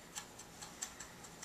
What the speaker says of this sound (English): A little bit more chopping.